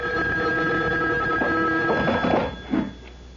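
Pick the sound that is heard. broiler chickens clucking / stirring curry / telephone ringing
telephone ringing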